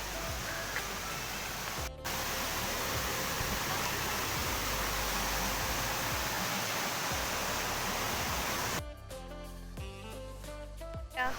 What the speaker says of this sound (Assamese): এইটো হৈছে জুৰি আৰু বহুত ওপৰৰ পৰা আহে জুৰিটো